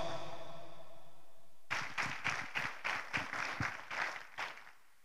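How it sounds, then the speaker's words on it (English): An audience at a Nutrilite rally and expo in Jakarta breaks into applause, a burst of rhythmic clapping of about a dozen strong beats that rises suddenly and stays loud. "Give them a big round of applause."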